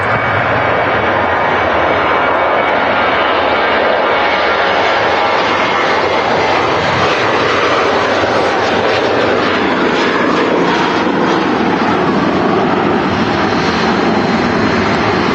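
A SunExpress airliner on its take-off roll at Manchester Airport roars steadily and loudly, the jet engine noise building and swelling throughout with no voices.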